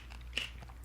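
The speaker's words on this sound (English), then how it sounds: "Some people have a hard time with the seeds because they're big and crunchy, but I eat pomegranate seeds." A single crisp crunch of someone biting into big, crunchy pomegranate seeds, quiet and close against a soft steady background.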